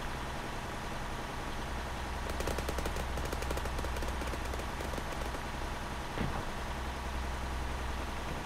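Close gunfire during a jungle assault in Arma 3: a rapid string of sharp automatic shots in the middle, over a constant background hum, with a single louder crack near the end.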